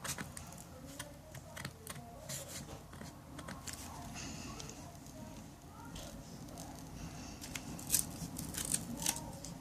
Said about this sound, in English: And I'm gonna use my scissors again.